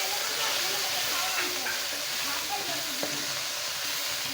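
Turmeric paste, added with ginger-garlic paste, sizzles in a hot frying pan while small fish are being fried, a steady broadband hiss with faint stirring clicks and a voice talking over it.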